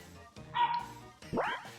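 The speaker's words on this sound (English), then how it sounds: "I hear a bark." A dog bark sound effect from a Jackbox party video game, two quick yappy barks in succession, clear and fairly quiet over a soft background.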